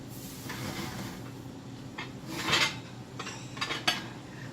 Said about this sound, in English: I'm taking the top off of my macaroni, and I'm going to let it cook now with the top off